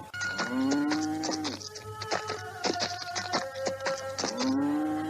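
Cattle moo in long, loud, drawn-out calls close by, with one low bellow at the start and another near the end, and a faint buzz of flies underneath.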